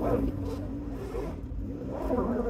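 A car stuck in a parking spot in Montreal, its engine rumbling and revving steadily as the wheels fail to grip, with voices faintly present in the background.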